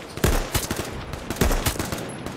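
Bursts of gunfire from the video game H1Z1, loud rapid volleys of shots fired in quick strings with short gaps, like automatic weapons in a firefight, no voices over it.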